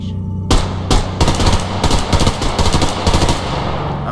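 PPSh-41 submachine gun firing in Survarium, several loud, close bursts of rapid automatic fire separated by short pauses.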